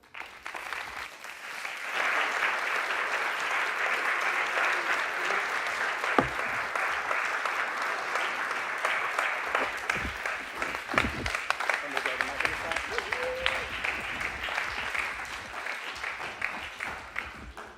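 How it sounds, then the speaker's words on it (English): An audience claps for the dancers Rokafella, Kwikstep and the Full Circle Souljahs at the David Rockefeller Creative Arts Center, sustained and steady, with a few voices calling out over it. "We always love applause, right?"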